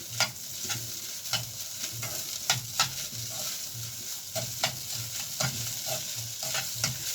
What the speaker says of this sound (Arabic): هعمل له تقلية بالثوم واروح حطها عليه